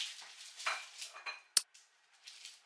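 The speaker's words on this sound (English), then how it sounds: "Just put it in the oven like so, like middle shelf." A tray holding a mushroom wellington in pastry is slid onto the middle shelf of an oven, giving faint scraping and light clatter with one sharp metallic clink in a quiet kitchen.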